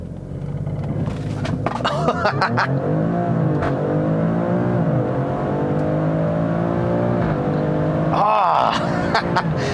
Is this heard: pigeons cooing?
no